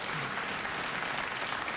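A studio audience on the Late Late Show with Craig Ferguson gives warm, steady applause, a dense even wash of many hands clapping close and loud for the whole stretch, with no voices standing out.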